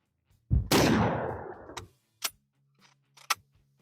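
Mosin Nagant rifle fired at a target outdoors: one loud, close shot with a long decaying boom, followed by short sharp metallic clicks and clacks, likely the bolt being worked.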